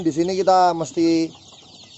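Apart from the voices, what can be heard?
chickens clucking in a coop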